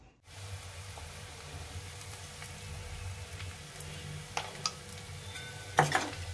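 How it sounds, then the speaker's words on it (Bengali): Onions, peanuts and green chillies frying in a pan, a steady low sizzle with a few sharp clinks of a spatula against metal near the end. "পেঁয়াজ, বাদাম আর কাঁচা লঙ্কা দিয়ে ভাজা হচ্ছে।"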